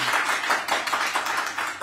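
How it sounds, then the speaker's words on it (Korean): A small audience at a gathering in the Korean Prime Minister's official residence claps steadily in one short, dense burst, close and fairly loud, with no talking. "우리와 같은 박수를 한번 여기서 여기 유튜브에 들리게 한번 좀 쳐주세요"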